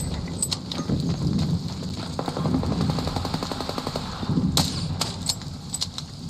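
Gunfire in the video game Arc Raiders, a rapid rattle of automatic shots with a few sharper cracks, fairly faint and blended with steady background game noise.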